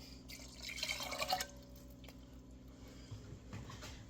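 Water from a cup pouring and splashing into dry cake mix in a bowl, a short trickling burst followed by a few faint drips and soft sounds, close and fairly quiet with no talk.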